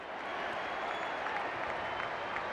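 A rugby league crowd at a Manly Sea Eagles versus Brisbane Broncos match applauds, a steady far-off wash of clapping and crowd noise holding at an even level.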